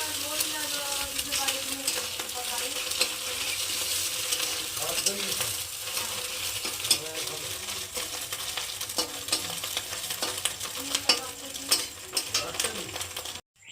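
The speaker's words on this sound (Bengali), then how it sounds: "এদিকে ডিমটা ভুজিয়া করে নেওয়া হচ্ছে আগে" Egg fries steadily in hot oil in a pan, being scrambled into bhujia with a spatula: a loud, continuous sizzle with frequent scraping and stirring clinks throughout, and no talking.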